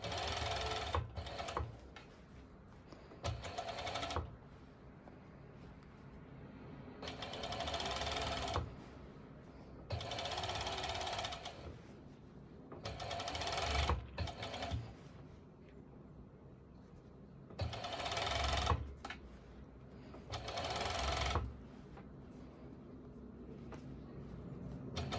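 An overlock serger stitches stretchy activewear fabric for ruched-side shorts, running in repeated bursts of a few seconds each with short pauses between, a steady close whirring that starts and stops about eight times.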